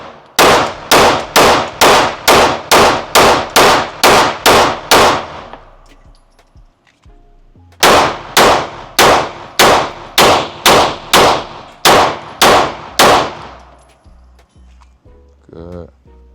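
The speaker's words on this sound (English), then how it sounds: "I was so happy shooting this gun and it was just running." Sharp, loud gunshots from a Staccato XC pistol fire in a rapid string of about ten, pause briefly, then resume with another quick volley of similar shots.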